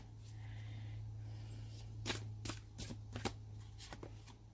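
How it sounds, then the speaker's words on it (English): A deck of cards being shuffled, with several crisp riffling bursts and snaps in the second half over a steady low hum, fairly faint and close, with no talking. "I'm getting these cards here."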